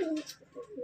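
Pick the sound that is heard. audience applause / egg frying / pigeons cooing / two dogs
pigeons cooing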